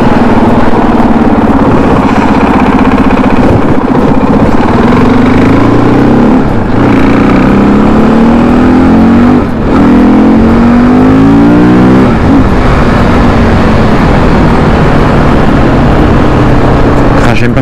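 A KTM 530 EXC motorcycle engine, already warmed up, runs steadily close by, idling with rising and falling pitch sweeps as it is revved, continuous and loud throughout.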